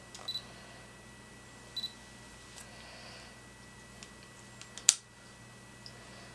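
A Sigma 17-35mm lens on a camera makes faint, close mechanical ticks and whirs as the shutter button is half-pressed, with a few short paired clicks and one sharper snap near the end, in a quiet room with no talking.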